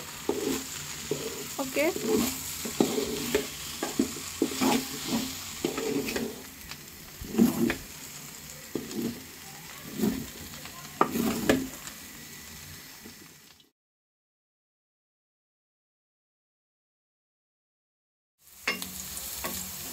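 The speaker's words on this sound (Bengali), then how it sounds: "আম্মুর ফ্রাইড রাইসটা প্রায় শেষের দিকে, আম্মু আর একটু হয়তো ফ্রাই করবে।" Vegetable fried rice is stir-fried in a pan at home, with rhythmic scraping and tossing strokes over a light sizzle. It falls silent for several seconds, then resumes, and a voice briefly speaks once.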